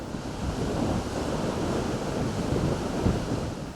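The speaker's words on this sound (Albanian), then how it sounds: "përkeqësimit të kushteve meteorologjike dhe dallgëve të forta në det" Strong sea waves and gusting wind in the Vlorë bay during rough weather, a loud, continuous roar of surf with heavy wind buffeting close to the microphone throughout.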